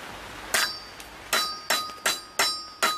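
A motorbike bearing is tapped into a metal wheelbarrow wheel with six sharp, ringing metallic hammer strikes, close and clear, each clang decaying with a bell-like tone.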